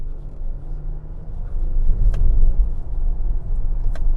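A 2022 Nissan Pathfinder Platinum accelerates at full throttle after a downshift, its engine rumble swelling sharply partway through and staying loud to the end, heard from inside the cabin.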